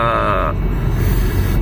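An MG4 electric car's lane-departure warning sounds as a short, clear harmonic chime over steady road and cabin rumble while the car drives over the lane line, then fades into the drive noise.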